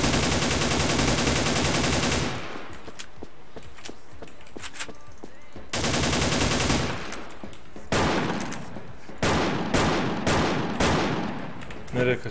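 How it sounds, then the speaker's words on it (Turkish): Long sustained bursts of automatic gunfire in a shooter video game, loud and dense, with a roughly two-second spray, a pause, another burst, then several shorter rapid bursts. "Bu silah güzel, ben bunu tararım."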